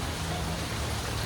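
Heavy rain pours down steadily in the Philippines, a dense, even hiss of falling water with no breaks, moderately loud and close.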